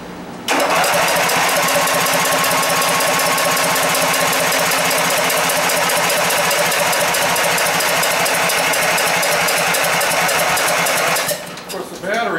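An Ariens Emperor V-twin engine turning over, a loud continuous rapid chugging crank that starts suddenly and runs unbroken for about ten seconds before stopping.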